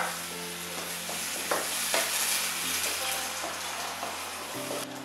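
Red peppers and chopped tomato pulp cooking down in a pan for Maltese stuffed courgettes, a steady close sizzle and bubble with occasional stirring scrapes and clinks throughout.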